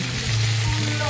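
Onions frying for rougail saucisses give off a loud, dense, constant sizzle in the pan, close up, with a low hum and faint voices underneath.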